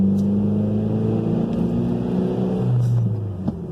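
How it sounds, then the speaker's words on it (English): A Mitsubishi Evo X pulls hard along a road, its engine note rising steadily up through the revs, close and loud from inside the car, with a sharp burst near the end as the revs drop. "That blow-off valve, though, it just makes you smile"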